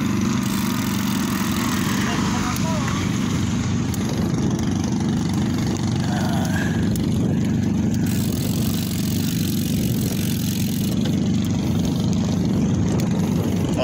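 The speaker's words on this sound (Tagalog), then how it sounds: "May kasabay tayong bangka." Steady droning motor hum of a small boat's engine running continuously throughout, loud and close, with faint voices under it.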